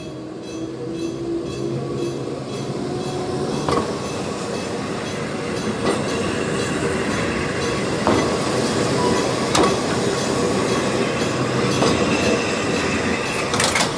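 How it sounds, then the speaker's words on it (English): An Enoden train rolls past on its rails, a sustained rumbling roar with rhythmic clicks and clacks of the wheels over joints at regular intervals, close and fairly loud throughout. "the Enoden runs alongside the cars and pedestrians"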